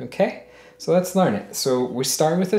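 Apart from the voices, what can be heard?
No distinct noise like a dog, phone or traffic.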